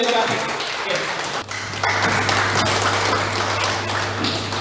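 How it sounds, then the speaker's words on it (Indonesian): Audience applause for a speaker at a Brotherhood Community event, a broad steady patter of clapping filling the room, with a low hum running underneath. "Bapak Ibu berikan aplaus yang sangat luar biasa sekali lagi buat Bapak Diwan"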